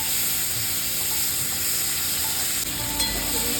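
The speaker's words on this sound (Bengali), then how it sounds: "হালকা করে ভেজে নেব চিংড়ি মাছটা" Prawns fry lightly in oil in a pan, a loud, steady hissing sizzle that runs unbroken from start to end, with a faint clink near the close.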